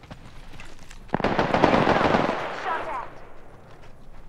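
Sustained automatic gunfire in the video game Apex Legends, a loud rattling burst building after a sharp first shot, then tailing off into fainter shots, with some voice chat underneath.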